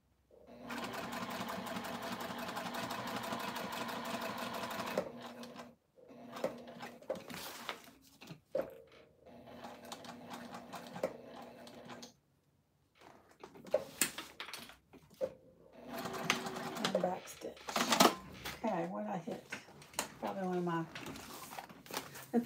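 A Juki sewing machine stitches steadily for about five seconds, then runs in short stop-start bursts with fabric rustling between them, and a voice talks at points.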